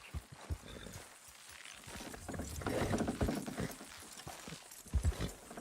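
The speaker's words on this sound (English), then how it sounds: "Horses will pull it clean down." Horses strain to pull down a wooden structure in Red Dead Redemption 2, with scattered hoof clops, creaks and clattering impacts building to loud thumps near the end.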